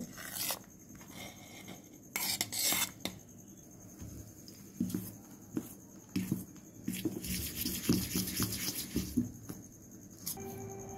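Paniyaram batter with curry leaves and coriander is mixed by hand in a bowl, giving a close, irregular run of soft scraping and rubbing strokes with short pauses between them.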